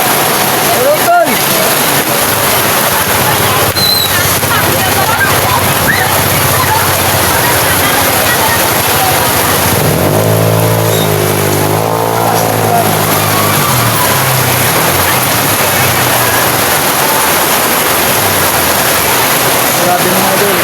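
Heavy rain pours down hard and constant at a street vendors' spot, a loud unbroken roar of water that fills the whole stretch, with a voice rising briefly over it partway through.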